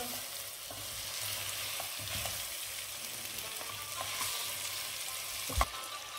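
Bone-in chicken sizzles in a karahi as it is stirred, a continuous hiss of frying with occasional scrapes and one sharper knock near the end, close and alone without voices.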